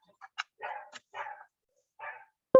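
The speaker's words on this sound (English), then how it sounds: "sorry about the dog barking" A dog barks several times in short uneven bursts, close by, followed by a sudden sharp clunk at the end.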